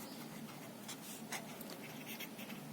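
Chalk or marker writing on a board during a math lecture, a steady faint scratching with a few brighter strokes, and no one talking.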